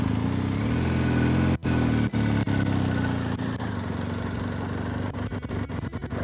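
An adventure motorcycle engine runs steadily at a low idle-like rumble, close and loud, with a few brief dropouts and clicks near the start.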